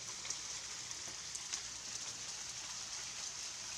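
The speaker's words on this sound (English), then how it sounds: "Listen to that hail." Hail falling at night at 4 a.m., a faint, dense patter of small ice hits on surfaces with occasional sharper ticks, steady and distant throughout with no voices.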